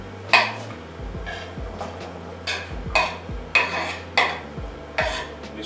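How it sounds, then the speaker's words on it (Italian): Zucchini cooking in a little oil in a pot over very high heat, with repeated clanks and scrapes of a utensil stirring against the pot in a regular rhythm over a soft sizzle, no talking. "Ho messo un po' di olio nella pentola, le zucchine, e adesso vado a cuocerle a fuoco molto molto vivace."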